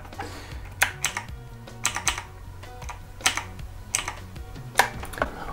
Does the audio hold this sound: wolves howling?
no